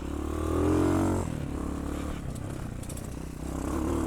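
Hawk 250 motorcycle ridden on dirt, its engine buzzing and rising in pitch, then easing off to a rougher lower drone with scrapes and clatter from the trail, close and fairly loud throughout.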